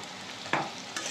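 Ginger, cumin powder and red chilli powder frying in a pan, with a steady sizzle broken by two short scraping stirs of a spoon against the pan.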